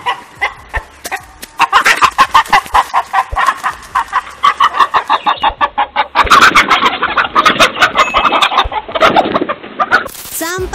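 A chicken under attack by a fox squawks and clucks frantically in rapid repeated bursts, loud and close, growing more agitated toward the end.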